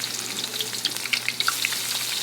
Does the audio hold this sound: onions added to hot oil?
yes